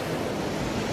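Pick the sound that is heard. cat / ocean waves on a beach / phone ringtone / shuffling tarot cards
ocean waves on a beach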